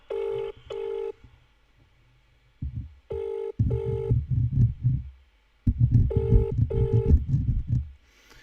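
Ringback tone of an outgoing telephone call: paired electronic rings repeat three times at even intervals, loud and close, with low rumbling handling noise filling the gaps between them.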